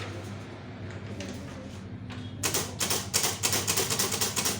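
Keys clatter on a typewriter while an official letter is typed in Tamil. After a quiet stretch, rapid close keystrokes begin about halfway through and continue in quick uneven bursts.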